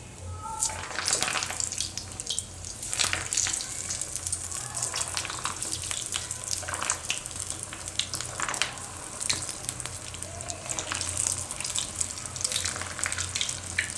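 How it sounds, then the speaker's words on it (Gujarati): Bread and bottle gourd kofta fry in hot oil over a low flame, making a dense, continuous bubbling sizzle up close, with periodic louder crackling bursts and a low steady hum beneath. "તો ધીમા ગેસે આને તરી લેવું."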